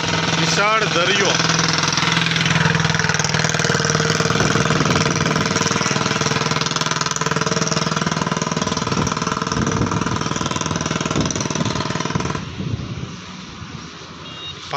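A boat engine runs steadily at Nagoa Beach in Diu, a loud continuous drone with rattling and a shifting pitch, dropping sharply near the end as the engine eases off.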